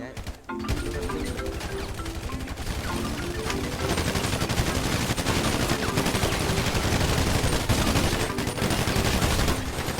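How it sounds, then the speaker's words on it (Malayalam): Rapid automatic gunfire bursts fill a police-versus-gang standoff in a roleplay video game, loud and nearly continuous with sharp repeated cracks, while a voice talks over the shooting. "ഇവിടെ ആരോ ഒക്കെ നിന്ന് ഭയങ്കര വെടിവെപ്പ്"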